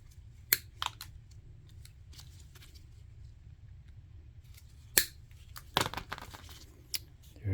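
Scissors trim foam air filter material for a Miata's individual throttle bodies, several sharp separate snips spaced irregularly over a quiet background, close and clear.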